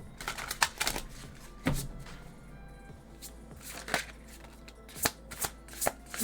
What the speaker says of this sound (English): Deck, it shuffles so beautifully.